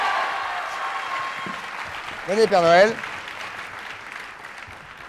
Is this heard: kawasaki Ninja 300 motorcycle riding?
no